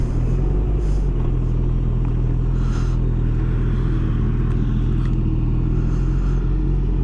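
A Kawasaki Concours 14 motorcycle cruises on a road home from work, giving a steady, continuous engine rumble with wind noise throughout and no talking.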